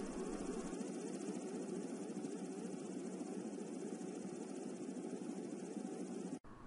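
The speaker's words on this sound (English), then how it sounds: "You can add drones to your project without programming by using the supplied prefabs and scripts." A small drone flying in a Unity toolkit demo gives a steady, even buzzing whir of spinning rotors, constant and moderately loud, alone with no voices and a brief dropout near the end.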